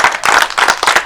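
A room of people claps for themselves in a short, loud, close burst of uneven hand claps with no talking.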